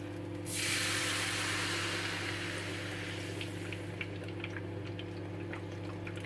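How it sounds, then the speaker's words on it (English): Guinness poured into a hot pan of onion and garlic for beef stew, a sudden loud sizzling hiss that bursts in and then slowly settles into crackling bubbling. "you pour the beer in"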